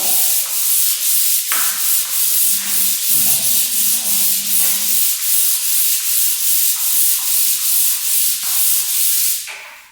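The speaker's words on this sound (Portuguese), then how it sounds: "Por que eu uso esse tipo de suporte para lixa?" A sandpaper holder scrapes across a plaster wall in repeated close, loud back-and-forth strokes, each rasping pass steady and rhythmic, with no voices.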